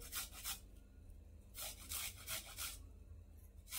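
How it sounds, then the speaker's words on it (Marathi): Half a beetroot is grated by hand in a home kitchen, producing soft rhythmic rasping strokes in quick bursts, fairly faint and close, with no talking. "आता इथं ना मी अर्धा बीट घेतले आणि हे अर्धा बीट सुद्धा आपल्याला किसून घ्यायचे"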